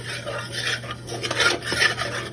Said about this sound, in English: just continue stirring this